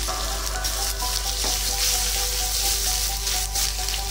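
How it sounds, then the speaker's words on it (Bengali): Tomatoes with salt frying in a pan for a papaya curry, a continuous bright sizzle with soft crackles and a stir or two, close and steady throughout, with no talking. "একটু টমেটোটা কষার জন্য নুন দিয়ে দিলাম।"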